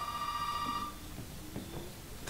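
A telephone rings in the Resident Evil 7: Biohazard video game, a single electronic trill burst near the start fading into quiet ambience with faint footsteps or thuds.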